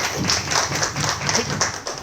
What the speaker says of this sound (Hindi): तालियां बजाई जाएं